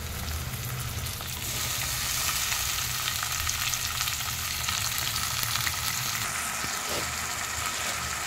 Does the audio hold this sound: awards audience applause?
no